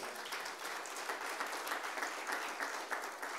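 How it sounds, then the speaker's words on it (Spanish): A church congregation applauds the Lord, sustained even clapping from many hands that holds steady and fairly close throughout. "¿Cuántos le dan un aplauso al Señor?"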